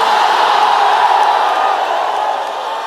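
A large crowd at a religious gathering shouts a slogan in unison, a loud, sustained roar of massed voices that eases off slightly toward the end.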